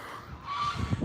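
Geese honking on a small farm, a few loud close calls rising toward the end over faint background noise.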